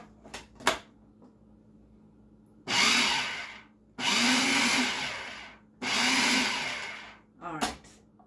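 A food processor pulses dry pie crust ingredients, flour, salt and baking powder, in three loud motor bursts of about a second each, with short gaps between and a few clicks and handling knocks around them.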